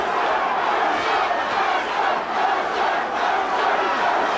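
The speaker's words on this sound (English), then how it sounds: "And now the Mercer crowd comes to his support." A boxing crowd roars in support of a heavyweight fighter during the Ray Mercer versus Tommy Morrison bout, a sustained, loud, dense arena cheer with brief dips.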